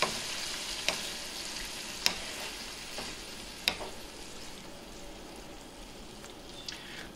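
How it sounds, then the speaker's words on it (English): Two cans of tomato sauce being stirred in a pot for spaghetti and meatballs: a soft, continuous bubbling hiss with a few sharp spoon clicks against the pot, fairly quiet and without talk. "Two cans of tomato sauce. Mix it thoroughly."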